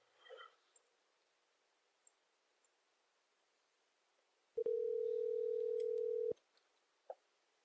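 A telephone call ringing out, a steady electronic ring tone lasting under two seconds amid quiet background rustling and a few faint clicks.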